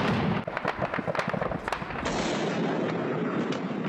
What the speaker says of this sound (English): Gunshots in one of the largest cities in the north of Iraq